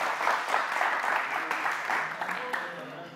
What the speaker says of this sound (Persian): عرفان جان و محب جان را تشویق کنین